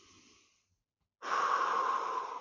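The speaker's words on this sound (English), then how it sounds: "Keep breathing in through the nose, out through the mouth." During a fitness warm-up class, a person takes a faint breath, then after a short pause lets out a long, loud, rushing exhale through the mouth that holds steady for over a second.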